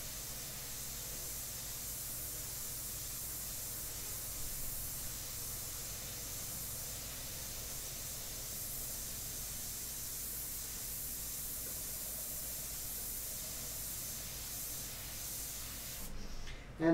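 A steady, soft, continuous airbrush hiss as paint sprays through custom shields onto a portrait, close and unbroken, with a faint knock at the very end.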